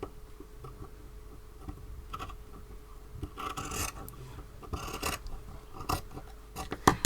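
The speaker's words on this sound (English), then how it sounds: "I just want to trim that off straight." Scissors snip and rasp through fabric while old clothes are trimmed straight for a handkerchief top, in irregular close cutting strokes with a few louder bursts and no talking.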